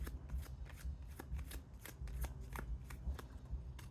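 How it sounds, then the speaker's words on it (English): Tarot cards are shuffled outdoors in quick, crisp riffles and slides. The rapid papery flicks are close but soft and play alone. "I'm not great at pulling these cards."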